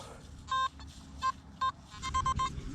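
Metal detector on a beach giving a series of short electronic beeps, two single tones then a quick run of three, close and clear over faint wind and surf.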